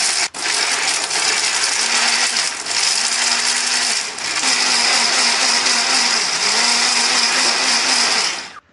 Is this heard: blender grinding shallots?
yes